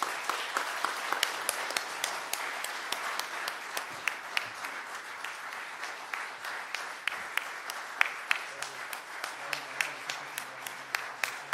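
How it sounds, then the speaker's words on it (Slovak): An audience breaks into steady, sustained applause welcoming an award recipient at a formal ceremony honouring successful Slovaks working abroad, a dense field of many hands clapping at close to moderate range throughout. "privítajme prosím potleskom Maju Poláčkovú."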